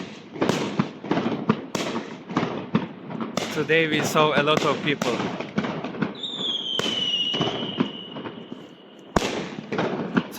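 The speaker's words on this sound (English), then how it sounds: "Today we saw a lot of people playing with fireworks." Fireworks and firecrackers go off during a Chinese New Year night walk, with sharp pops and bangs scattered under a person talking and a long whistling rocket soaring midway through.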